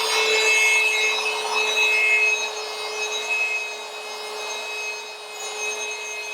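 A Rupes LHR19E rotary polisher buffs a surface with a steady, close motor whine and a constant high tone, its pitch and friction noise shifting slightly as pressure and arm speed change, with no talking.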